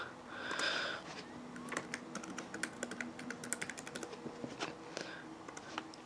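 Fingers type on a Dell laptop keyboard in quick, irregular, close-up key clicks that continue steadily for several seconds.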